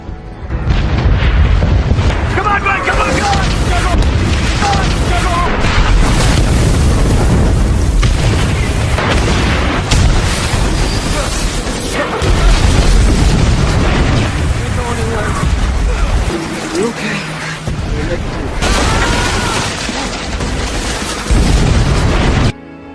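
Bombs exploding during a night-time Japanese air raid in the Second World War, a loud, dense series of heavy booms and blasts rolling almost continuously, close and overwhelming, with brief dips between impacts.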